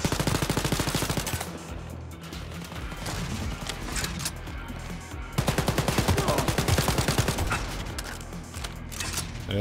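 Video game gunfire rattles in rapid automatic bursts, loud and close, with a dense mechanical clatter running almost continuously and a renewed burst midway through.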